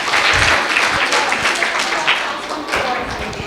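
Children and adults at a school Independence Day celebration on 15 August clap loudly in a dense, sustained round of applause, with some voices mixed in.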